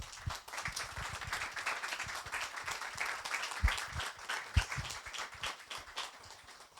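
Audience applause at an evening talk, a steady patter of many hands clapping, fairly faint and even throughout with a few sharper claps.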